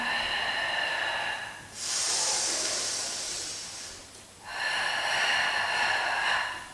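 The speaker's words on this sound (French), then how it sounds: "c'est une respiration longue" Close, loud breathing from a breathing lesson: a long airy exhale or inhale, then a slow hissing breath through the mouth, followed by another long breath.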